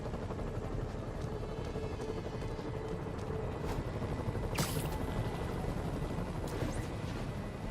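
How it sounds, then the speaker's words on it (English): Steady low rumble of helicopter rotors in the video game Spider-Man for PS4 throughout, with a brief bright whoosh partway through and faint clicks scattered over it. "Bet I can use those helicopters to swing."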